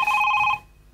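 A telephone gives one short ring, a bright trilling burst that is loud and close and then cuts off into near silence.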